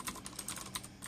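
Rapid clicky keystrokes on a Ducky Zero keyboard fitted with Cherry MX Blue switches, a steady run of crisp, fairly close taps with no voices.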